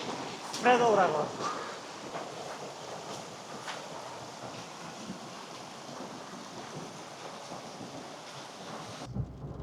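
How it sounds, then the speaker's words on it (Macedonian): Rain falling during a thunderstorm while driving in western Slovenia, heard as a steady, soft wash with low rumbling and a louder burst near the start, ending in an abrupt cut. "бидејќи започна да врне"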